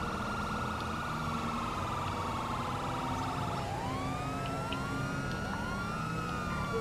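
Police car sirens wail continuously in GTA 5 Online, several overlapping wailing tones sweeping up and down over a steady background rumble, loud and close throughout with no talk.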